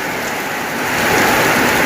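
Heavy rain pours down in a dense, steady hiss of drops on surfaces, swelling a little louder partway through, with no voices.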